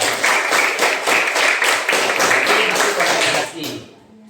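A class of students claps for a classmate in a tajwid lesson, a loud, rhythmic group clapping in quick synchronized beats, close by, that stops abruptly near the end and leaves a quiet room.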